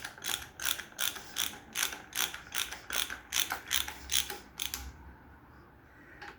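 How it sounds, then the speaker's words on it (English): Ratchet tightening the tappet cover bolts on a VW Polo 1.4 engine, a quick run of about a dozen crisp, evenly spaced clicks close by that stop abruptly, with no talk. "now we will tighten up our 3 bolts here, make sure that they are as tight as they should be"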